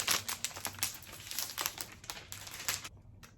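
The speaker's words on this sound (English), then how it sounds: "I'm gonna take the paper off, the most satisfying part. Paper comes off." Protective paper peeled off an iPad, a faint crinkly rustle with quick tearing ticks in an uneven patter, close and quiet, then a brief pause and no talk.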